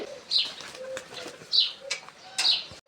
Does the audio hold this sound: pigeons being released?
yes